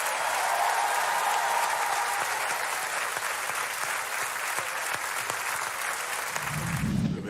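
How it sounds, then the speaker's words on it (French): A television studio audience applauds for a singing segment, steady dense clapping that stays loud for several seconds before a low voice begins at the very end. "Applaudissements pour David Douillet."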